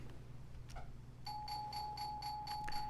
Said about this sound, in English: his finger assaults the doorbell's weak point